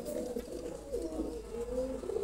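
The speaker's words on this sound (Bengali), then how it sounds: "এই জায়গা আছে 128-এর ব্রিডিং কবুতর, ইম্পোর্ট করা কবুতর।" Imported breeding pigeons of the 128 strain coo from a loft in a steady, low, warbling stream that runs through the whole stretch, fairly close, with no talk over it.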